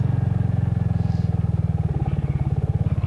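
A motorcycle rumbles along a quiet, hilly country road with grass down the middle, its engine pulsing in a fast, even beat, loud and close throughout.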